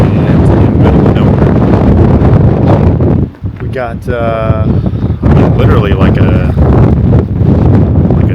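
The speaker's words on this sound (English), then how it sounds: "The wind has definitely picked up, if you couldn't tell." Strong gusting wind batters the microphone with heavy roaring buffets in dusty Hanksville, Utah, as a dust storm builds; someone talks over it, and the gusts briefly ease midway before surging again.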